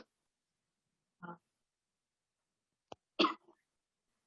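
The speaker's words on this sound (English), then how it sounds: "I have this horrible cough still." A few short, isolated coughs from a speaker at a literary festival talk in an otherwise quiet room, one after a pause and then a tight pair, close and fairly soft.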